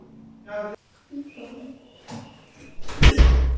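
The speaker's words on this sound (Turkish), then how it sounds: "Kapıyı kapat kapatmakta buldum çözümü." A door is shut at home with a loud, close slam and thud near the end, preceded by quiet shuffling and brief voices.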